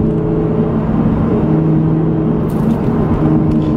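A Lotus Evora S engine in sport mode runs with a steady, rumbling drone and slight rises in pitch, as from throttle blips on paddle shifts, heard closely inside the car and without speech.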